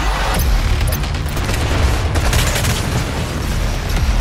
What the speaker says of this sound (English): Incoming missiles.